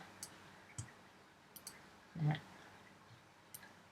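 Computer mouse clicking during video editing in Final Cut Pro, with a few sparse, faint, close clicks spread across a quiet room and one brief soft thump partway through.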